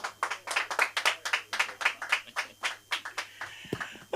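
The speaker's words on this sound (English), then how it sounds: "Clap it up for your host." A comedy club audience claps for the show host, a steady burst of applause from a small crowd lasting several seconds.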